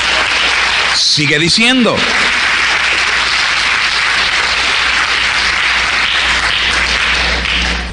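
A church congregation applauds during an Easter Holy Week sermon, a steady wash of clapping that fills the whole stretch, with a voice speaking briefly near the start.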